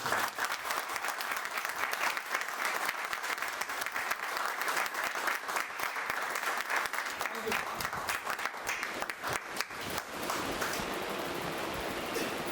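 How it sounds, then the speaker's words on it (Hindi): Sustained audience applause fills a large event hall as a speaker is welcomed on stage, a dense steady wash of many hands clapping throughout, loud and continuous with a slight thinning near the end. "एक जोरदार तालियां।"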